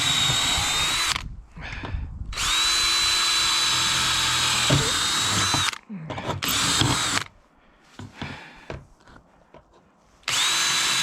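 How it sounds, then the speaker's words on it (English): A power drill whines in several long, loud bursts, pre-drilling holes for a Starlink installation, starting and stopping, with quieter handling noises and brief pauses between runs. "Going to pre-drill the holes."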